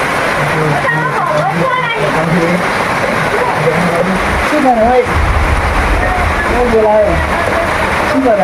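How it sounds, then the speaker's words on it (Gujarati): Steady rain pours down outdoors in a continuous, loud wash of patter and splashing, while people talk over it throughout and a vehicle rumbles low in the background. "અમે વરસાદ આવવા ચાલુ થઈ ગયો છે"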